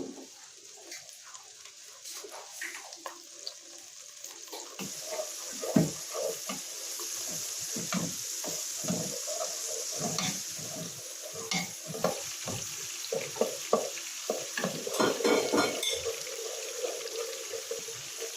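Bacon and onions frying together in a pan, with a steady sizzle and repeated scraping stirs, louder and busier in the second half, and no talk.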